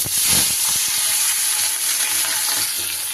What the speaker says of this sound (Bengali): এবার মাছগুলো আমি এক এক করে ভেজে